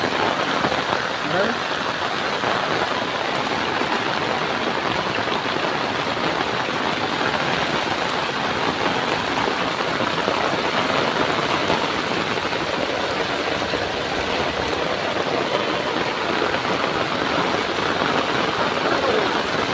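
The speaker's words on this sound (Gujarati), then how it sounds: "વરસાદ એવો પડે ને એટલે" Steady, dense hiss of heavy rain pouring down without a break in a village in Banaskantha, Gujarat, loud and close, with a low engine-like rumble beneath.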